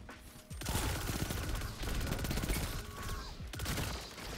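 The Manticore gun fires in the shooter game Destiny 2 as a rapid burst of gunfire that starts abruptly, runs in dense overlapping shots, and briefly pauses before resuming.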